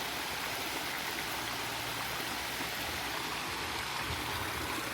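Water pours steadily over a small waterfall at Rainbow Springs State Park, a dense, continuous rushing roar that stays close and even throughout, with no voices.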